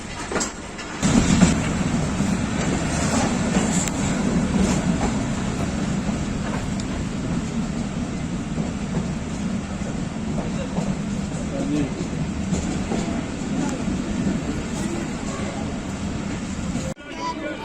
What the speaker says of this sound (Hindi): डाउन रहमान बाबा लाला मूसा से चल पड़ा।